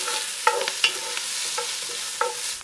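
Deer meat sears in a hot Dutch oven, a steady loud sizzle broken by a few short scrapes and clinks of stirring, with no one talking.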